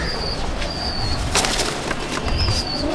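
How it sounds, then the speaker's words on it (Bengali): A pair of pigeons, a male and a female, released from a loft, with bursts of wing flapping close by amid faint outdoor background noise. "পায়রা দুটো ছাড়ছি, ছেড়ে আগে শখ করাচ্ছি,"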